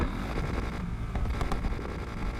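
A 4.1-liter V8 car engine in NFS Unbound gives a deep, rumbling drone that stays close and loud, with a few brief sharper pops riding over the steady roar.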